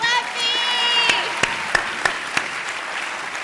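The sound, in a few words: audience applause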